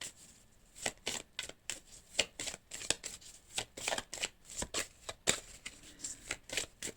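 Tarot cards are shuffled and drawn in a rapid series of crisp riffling flutters and snaps, close and clear, with no talking over them.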